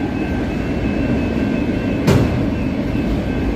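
Amtrak Coast Starlight passenger train in Oakland, California, rumbling steadily at moderate distance with a faint high whine, broken by one brief louder burst partway through; no one talks.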